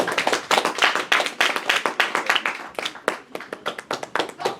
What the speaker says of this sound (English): let's give a round of applause for the founder of the Long Island Gaming League